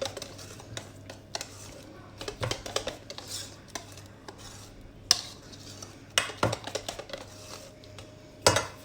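A utensil stirs savory tart filling in a bowl with soft, irregular scrapes and light clinks, fairly quiet, with faint voices in the background.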